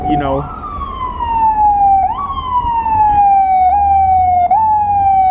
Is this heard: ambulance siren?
yes